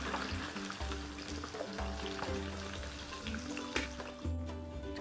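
Last batch of fish pieces deep-frying in oil, a continuous crackling sizzle with bubbling, close but fairly quiet, with occasional low thumps and a brief clatter, no talking.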